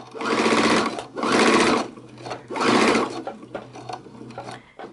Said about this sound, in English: you're going to sew the strap to this part of the bag